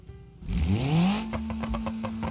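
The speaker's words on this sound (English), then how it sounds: "Here's a race exhaust." A car fitted with a race exhaust in BeamNG.drive revs sharply, its pitch rising quickly and then settling into a loud, steady, raspy drone close up, with crackling bursts over it.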